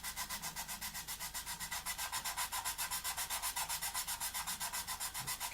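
Close, quiet rhythmic rubbing of a fine sanding stick on a plastic 1/48 F-4B Phantom model kit, about five even back-and-forth strokes per second, soft and steady with no talking.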